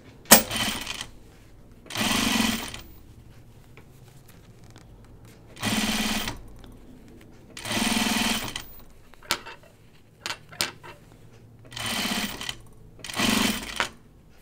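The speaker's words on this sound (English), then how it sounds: "So maybe I'm going to sew it really narrow." A home sewing machine runs a narrow seam on a dopp kit in six separate bursts of stitching, each a couple of seconds long, with quiet pauses and small clicks of fabric handling between them.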